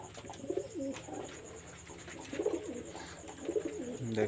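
Three bursts of warbling coos from Pakistani high-flyer pigeons kept indoors in a Khulna loft, close and moderately loud over a constant background hum, with no one talking.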